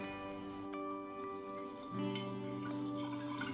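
Jack Daniel's Honey whiskey pours steadily from one bottle into another, a soft trickling gurgle that swells into a fuller glugging stream partway through, close and fairly quiet.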